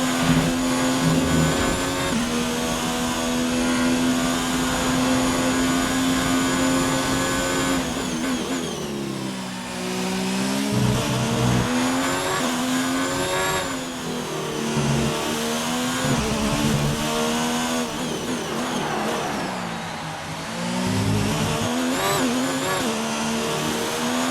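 Formula One race car engines from a championship-mode video game at the Australian race scream at high revs, pitch sweeping up and down through gear changes as cars pass, loud and sustained throughout.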